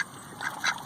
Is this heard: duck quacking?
yes